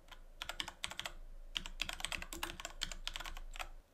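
Steady typing on a computer keyboard as a Terraform command is entered, quick irregular key clicks in bursts with short pauses, close and fairly quiet over a low hum.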